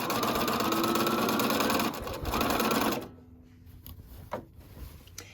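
A sewing machine stitches fabric for a McCall's 8358 wrap dress, running in a loud steady mechanical whir for about three seconds with a brief slowdown, then stopping, followed by quiet handling noises and a soft click.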